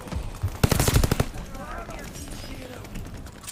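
Gunshots in a shooting video game: a loud, rapid burst of shots fired in quick succession, then fading into quieter background game sounds and faint voice-like tones.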